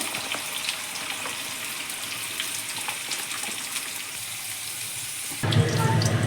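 Sliced onions frying in plenty of oil for chicken biryani give a continuous close sizzle with small crackling pops throughout, shifting to a fuller, louder bubbling in the last second, with no voices.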